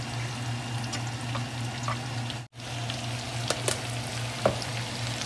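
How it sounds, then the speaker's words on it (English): A cabbage, onion and bacon mixture for haluski frying in a pan gives a steady, even sizzle with a low hum underneath, broken by a few sharp clicks of stirring and one brief dropout midway. "now it's time for my cabbage and onion and bacon mixture to fry up a little bit"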